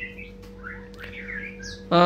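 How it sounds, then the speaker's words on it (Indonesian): Scattered bird chirps and short whistled phrases from a wild-caught white-rumped shama, moderately close, over a steady low hum, ending in a louder burst of buzzy sound. "yang di depan layar kaca teman ini adalah murai batu hutan ya"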